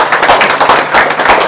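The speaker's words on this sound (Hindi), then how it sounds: "एक बार जोरदार तालियां इनके लिए होना चाहिए।" An audience applauding at a Rain BNB business plan seminar, close dense clapping from many hands in a steady burst with no talk.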